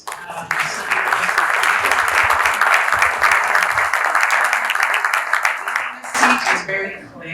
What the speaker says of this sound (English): Can we please clap for our panelists?